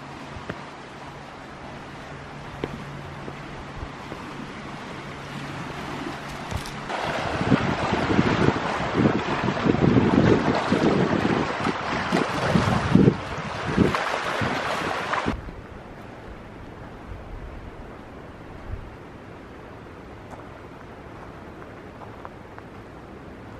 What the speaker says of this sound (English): The water is right out over here, so we will have some nice water noises to fall asleep to tonight.